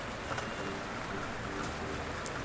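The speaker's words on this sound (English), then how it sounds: "Now, relax and listen to the sound of rain and the onsen." Rain falls steadily at an onsen hot spring in Oita, Japan, a dense even hiss of drops with faint water patter, continuous and close with no voices.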